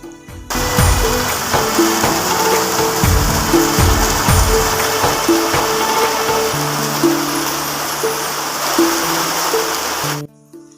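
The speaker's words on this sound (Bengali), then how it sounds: "বৃষ্টি চলে এলো আর দেখো বৃষ্টি পড়া শুরু করে দিয়েছে আর ভালোই কিন্তু বৃষ্টি হচ্ছে" Heavy rain falls at a village home, a steady broad wash throughout, while low tonal household clatter and thumps sound over it nearby before everything cuts off abruptly at the end.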